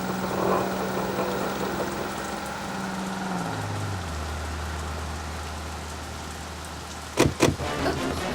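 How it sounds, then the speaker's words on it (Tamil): Heavy rain pours at night beside a roadside shop in a steady, loud broadband wash, while a vehicle engine hums low and drops in pitch, then a couple of sharp knocks sound near the end. "திடீர்னு பயங்கரமா மழை பெய்ய ஆரம்பிச்சுது"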